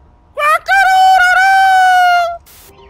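A rooster crows loudly and close in the video game Amanda the Adventurer, one long cock-a-doodle-doo call standing alone.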